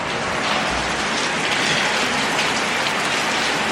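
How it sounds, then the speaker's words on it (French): Steady heavy rain in Martinique pours down, a dense, even hiss of drops on surfaces close by, continuous with no voices. "le temps que la pluie se calme"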